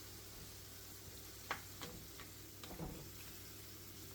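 Beef and broccoli being stirred in sauce in a pan give a faint, soft sizzle with a few light scraping taps of a utensil.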